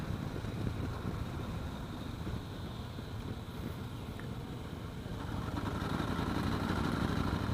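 A 2015 Yamaha Star Raider cruiser's engine drones low under throttle at low revs during a ride, a steady rumble partly buried in wind buffeting on the microphone that swells slightly near the end.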